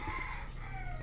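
Chickens on a farm in Tanawan, Batangas, keep up steady clucking with crowing mixed in, a dense, continuous fowl chorus heard up close without speech.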